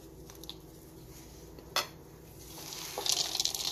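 Ground nuts being stirred a little at a time into a homemade protein energy ball mixture, with soft scraping and squishing, a sharp utensil clink near the middle and a denser burst of clattering stirring toward the end, no voices.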